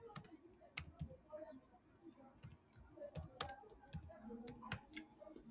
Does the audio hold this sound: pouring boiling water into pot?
no